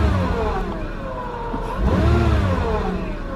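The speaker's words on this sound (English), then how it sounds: "So let's hit the gas." A 2000 Nissan Maxima with an idle malfunction revs up from idle, its engine note climbing and falling in a steady mid-pitched whir, close and fairly loud throughout with no voices.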